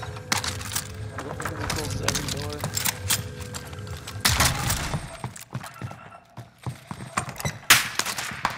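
Bursts of gunfire and impacts ring out in a first-person shooter match on the Caldera map, mixed with other game effects while players talk over them.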